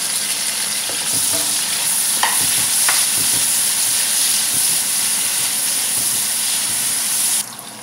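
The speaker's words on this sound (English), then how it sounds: "I'm adding in the onions, the curry leaves together and cook it for 1 minute" Onions and curry leaves fry in a pan as a loud, steady sizzle, with a few stirring scrapes early on, before the sizzle drops off abruptly near the end.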